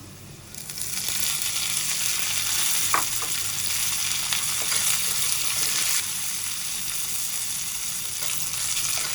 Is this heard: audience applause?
no